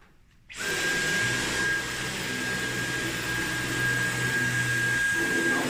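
A Turbo Master vacuum cleaner switches on and runs on its boost setting, a loud, steady motor whine with a constant high tone that holds without break.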